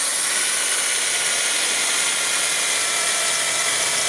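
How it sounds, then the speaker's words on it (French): A power drill bores a hole through a camper van wall to fit a door lock, giving a steady, loud, continuous whine with broad hiss that runs unbroken for about four seconds, with no talk. "Nous allons tout simplement percer le premier trou sur le traçage que nous avons fait tout à l'heure."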